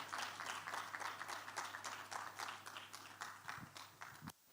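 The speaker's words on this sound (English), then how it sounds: "Let's give her a round of applause as she comes up." A small audience at a leadership conference and awards event gives a faint round of applause, sparse separate claps in a loose rhythm that stop abruptly, with a low hum underneath.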